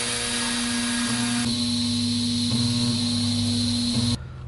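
Welding on a Nissan 240SX lower control arm, a steady loud buzzing hiss with a constant hum that holds for about four seconds, then cuts off abruptly, no voices.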